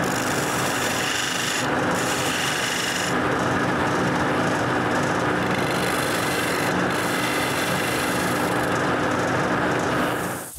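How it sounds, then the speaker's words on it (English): A wooden post spins on a lathe while beads are cut into it with a carbide chisel, a loud continuous rasping, scraping hiss with a few brief dips where the tool lifts off the wood. "The last thing we do is turn the beads."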